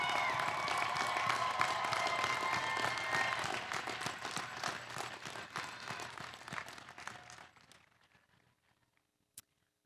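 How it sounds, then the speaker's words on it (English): A graduation crowd gives a round of applause for the faculty, dense clapping and some cheering that holds steady, then gradually thins and fades out near the end, followed by a single sharp click. "Please join me in a round of applause to celebrate your faculty."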